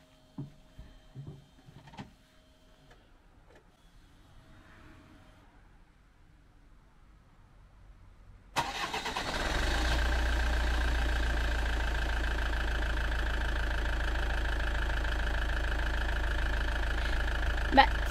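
After a few quiet clicks and soft sounds, a car engine starts abruptly and settles into a steady, loud idle with a low rumble.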